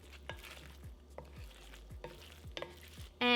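Thanksgiving stuffing being mixed in a bowl, salt and pepper just added: a run of soft scraping strokes in an uneven rhythm, close and fairly quiet, ending in a sudden louder clatter.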